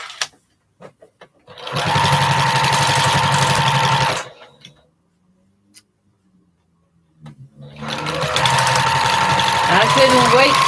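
A sewing machine stitching quilt blocks runs in two steady, loud whirring bursts of a few seconds each, with a quiet pause and small clicks and handling noises between them.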